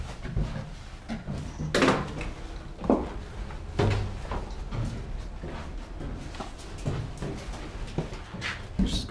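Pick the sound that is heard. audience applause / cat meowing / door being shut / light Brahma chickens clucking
door being shut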